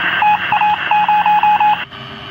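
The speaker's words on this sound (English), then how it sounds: "we can hear the transmission sound coming through the radio set" A radio transmission signal picked up on the direction-finding set of a Mosquito in DCS, tuned to 10 MHz: a steady electronic tone with a clear, loud series of rhythmic beeps pulsing over it for about two seconds, then cutting off.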